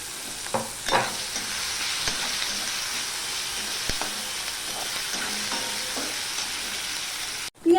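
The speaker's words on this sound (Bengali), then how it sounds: "মাছটা আমার আর্ধেকটা ভাজা হয়ে গেছে" Fish roe sizzles steadily in a hot pan, with a few light clinks of a utensil stirring and a short bump near the end.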